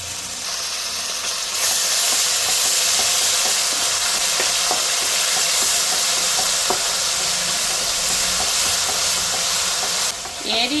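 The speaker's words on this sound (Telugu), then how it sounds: "ఇప్పుడైతే ఆనియన్స్ వేగిపోయినాయి కాబట్టి అల్లం వెళ్ళి పేస్ట్ అనేది వేసుకుంటున్నాను" Golden-brown fried onions with ginger-garlic paste sizzling and hissing loudly and steadily in a pan, with faint stirring scrapes throughout and the sizzle dropping off briefly near the end.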